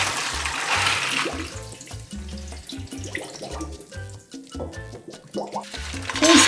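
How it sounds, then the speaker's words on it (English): Soaked black beans being drained, water pouring and splashing into a sink with gurgling and bubbling, a steady close flow that fluctuates as the container tips. "drain the beans."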